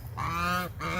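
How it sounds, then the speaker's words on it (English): A goose honks twice in quick succession, each call a loud, nasal, harmonic blast lasting about half a second with a short gap between, close by on a small farm. "Fussy goose!"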